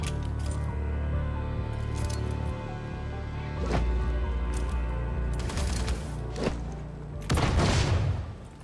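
A grenade blast and bursts of gunfire in a crowded video game firefight, with several sharp broadband explosions and crackling shots standing out over a continuous rumbling battle din.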